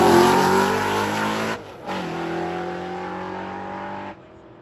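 A drag race car at a race week event holds its engine against the rev limiter, a loud, steady buzzing drone with a short dip partway through before cutting off near the end.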